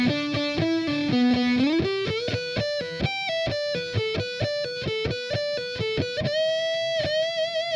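Distorted electric guitar plays a solo phrase from a thrash metal song, a fast run of picked notes with slides into higher positions, ending on a sustained bent note, loud and alone.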